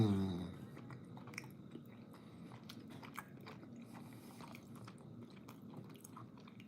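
Quiet close-up chewing and biting of a snack food, soft crunchy mouth sounds repeating steadily over several seconds with no talking.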